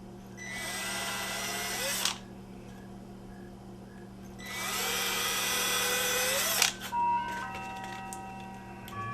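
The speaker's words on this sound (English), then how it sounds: "I'm going to take and just pre-drill 3 holes in here" A cordless power drill pre-drills holes in a rotten entrance door frame for stainless steel screws, two whining bursts of about two seconds each separated by a pause, then fainter clicks and a steady background hum.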